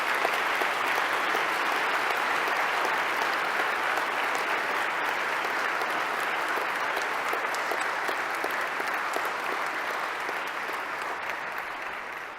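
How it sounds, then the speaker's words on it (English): An audience applauds in sustained, dense clapping that stays loud and even throughout, tapering slightly toward the end. "I would like, please, that we applaud his divine mercy at this very moment."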